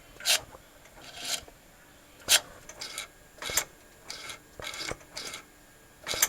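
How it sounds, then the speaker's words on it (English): A sim racing clutch pedal, an HE Ultimate modded with a Frex SimSynchro, gives short rasping scrapes, about seven brief strokes spaced irregularly across the clip, close and fairly quiet, with no talking. "I can hear a scraping sound"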